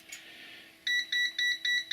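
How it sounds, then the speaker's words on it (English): A Venlab VM-600A digital multimeter beeps continuously while measuring a heating element drawing over 10 amps, a loud, steady series of evenly spaced beeps after a brief soft hiss. "12 amps we'll say, and it continuously beeps."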